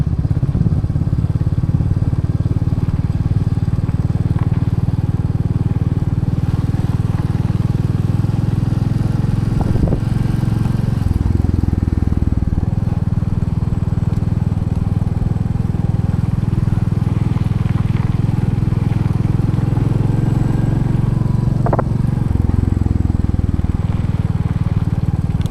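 A motorcycle rides along a road that is half tar and half mud on the way to Khardung La, its engine a steady loud drone throughout with occasional clatter and bumps.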